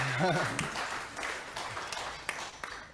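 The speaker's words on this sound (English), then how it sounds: "Yeah, you can clap for them." Audience applause at a community gathering, honoring volunteers who built with hammers: steady, moderately distant clapping filling the room, with a brief voice at the start and a few sharper claps poking through.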